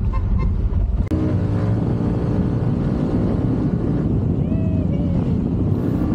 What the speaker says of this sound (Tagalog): ini-enjoy ko lang yung pagtitest natin sa motor na to